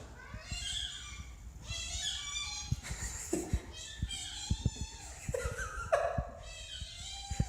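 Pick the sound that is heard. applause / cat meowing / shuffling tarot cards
cat meowing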